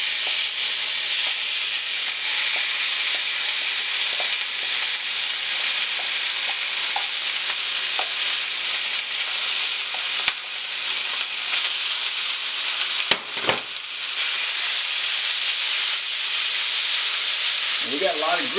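Roast beef hash fries in bacon grease and canned oil in a hot skillet at about 450 degrees, giving a steady, loud, even sizzle with a few faint clinks and a brief scrape near the end.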